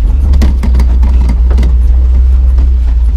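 A BMW E36 fitted with a swapped-in M50 six-cylinder engine pulls away across a field, its steady low engine drone loud and close throughout, with faint rattles over the top.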